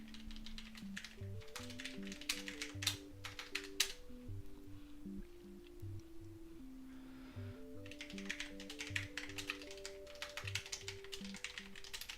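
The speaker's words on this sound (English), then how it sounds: "my keyboard sounds so much better on stream than real life" Steady typing on a computer keyboard, a continuous patter of close, crisp key clicks in uneven bursts with a brief pause midway, under soft background music.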